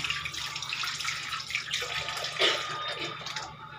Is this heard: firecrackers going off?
no